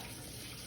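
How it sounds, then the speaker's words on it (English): Soaking water is poured out from a bowl of cut potatoes, a steady broadband splashing rush that holds at the same level through the whole short moment with no talking. "I'm gonna pour this water out and get that in the pot"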